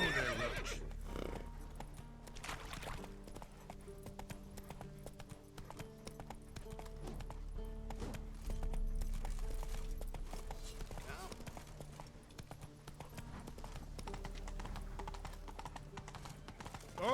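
Horse hooves clip-clop steadily with occasional neighing in The Witcher 3 video game, set under game music and ambience with a voice speaking at times.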